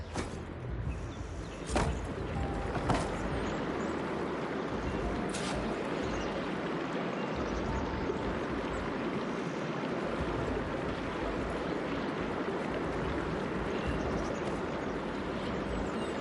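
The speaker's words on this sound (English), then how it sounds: "I can hear water in the room again" Steady broadband rush of water flowing inside a room in the video game Horizon, continuous and fairly even throughout, with a couple of brief clicks early on and no talk.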